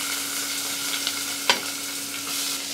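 Onions fry with mustard seeds in a pan, giving a steady, moderate sizzle with a few soft scraping stirs and one brief clink.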